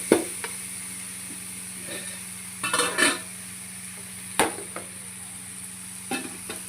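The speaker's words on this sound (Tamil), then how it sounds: "அது ஒட்டாத நாம் தான் கிண்டி விடணும்." Ginger garlic paste sizzles softly in a frying pan while a spoon stirs it, with a few scattered scrapes and clinks against the pan over a steady low hum.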